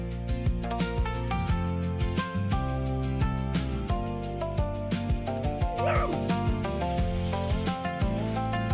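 A dog meeting an unusually large bug for the first time gives repeated yips, short barks and whimpers over a dense, steady background.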